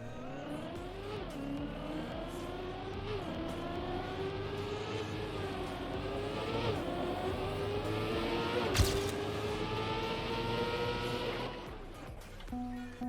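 A car driving along a route, its engine a steady close drone with rising and falling revs as it accelerates and shifts, a brief sharp knock near the end, no talk.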